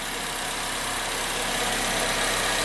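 An Acura RDX engine idles after starting, with a steady, dense hum and a faint mechanical rattle that grows slightly louder throughout. No voices are heard.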